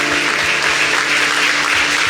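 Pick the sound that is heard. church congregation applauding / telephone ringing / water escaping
church congregation applauding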